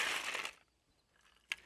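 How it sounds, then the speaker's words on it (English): Ice cubes added to a cocktail glass, a short bright clattering rattle at the start, then quiet, followed by a single sharp clink near the end, fairly faint and close. "we're gonna add a tiny bit more ice"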